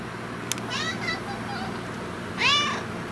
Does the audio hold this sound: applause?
no